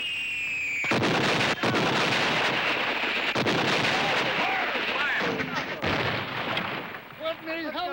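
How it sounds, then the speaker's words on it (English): Soldiers fire rifles in a dramatic 1974 film scene, with dense booming gunfire and heavy blasts rolling continuously, punctuated by sharp cracks, as shouting voices and a whistling tone weave through the barrage. "What in the hell is he doing down there? Fire! He's firing! Hold your fire!"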